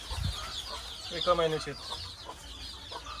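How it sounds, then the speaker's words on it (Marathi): One-month-old chicks hatched under a hen cluck in short bursts on a village poultry farm, close by, with a voice speaking over them. "ही 1 महिन्याची पिल्ली आहेत. कोंबडीपासूनच काढलेली पिल्ली आहेत पूर्ण"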